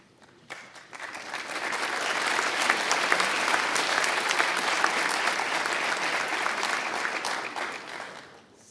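Sustained applause from a crowd at a firefighter graduation ceremony, swelling quickly after a brief start and holding steady for several seconds before tapering off.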